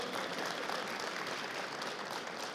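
A crowd applauds at a live auction of an Erkunt tractor at the Konya fair, steady dense clapping heard at a moderate distance without talk.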